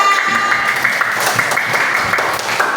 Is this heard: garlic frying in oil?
no